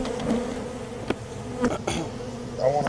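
Honey bees buzz around a bird house used as a hive, a close, continuous droning hum with individual bees passing near and occasional light knocks.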